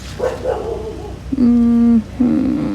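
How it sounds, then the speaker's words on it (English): Neighbor's dogs barking outdoors near a succulent garden after rain, a few loud sustained barks and a drawn-out howl-like yowl, fairly close. "Sorry, the neighbor's dogs."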